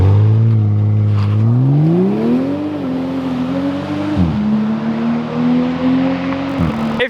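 A 2020 Toyota Supra engine revving through a dropped exhaust, loud and close, with a deep drone that rises as it accelerates, then shifts and holds with two brief drops in pitch.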